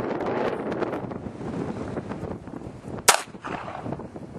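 A Cobra Derringer .380 pistol fires a single sharp, loud crack outdoors, standing out against steady wind noise and a low background rumble.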